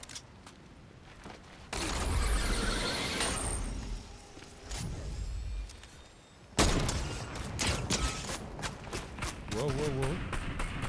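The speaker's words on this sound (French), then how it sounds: "on me tire dessus" Gunfire in the video game Fortnite, bursts of sharp shots and impacts mixed with footsteps and game noises, loud and close, while a voice talks over much of it.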